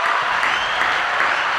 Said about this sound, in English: Can we get a hand clap for Aaron Spears?